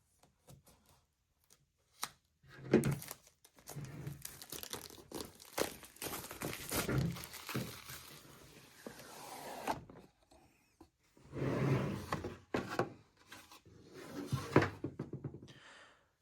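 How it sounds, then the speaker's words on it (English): Thin plastic shrink wrap on a South Park Seasons 1-20 DVD box set crinkles and tears as it is cut along the seam and peeled away, in close, irregular bursts of rustling with brief pauses. "now I'm going to take the shrink wrap off"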